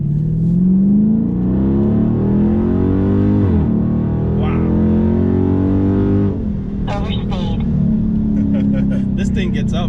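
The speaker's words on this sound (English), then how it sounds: "So it always like burbles when you hit the rev limiter." Dodge Charger Scat Pack engine revving hard and burbling at the rev limiter, a loud, steady in-cabin drone with pitch dips and crackles near the end, while a person talks over it.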